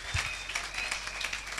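Congregation in church clapping together, a fairly brisk, uneven patter of many hands with slight rhythmic surges, heard at moderate level and a little distant.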